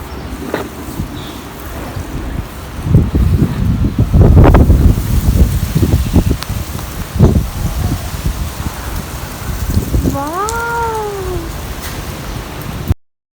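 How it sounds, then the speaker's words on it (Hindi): Outdoors, rain patters and wind gusts blow steadily at close range, rising to louder rushes midway, with a bird call briefly heard near the end. "वाह बारिश आ गई।"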